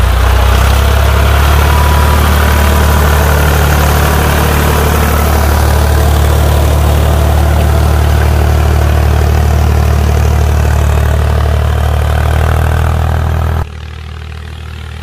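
A Ford 4600 tractor from the 1975–81 era runs its 3.3-litre three-cylinder Ford diesel loud and close, a steady low throbbing idle that holds for most of the time before dropping abruptly near the end.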